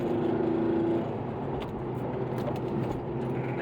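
An Audi S6 engine climbing a mountain grade, a steady car drone that swells briefly during a rev-matched downshift into a corner before settling back to a lower cruising hum.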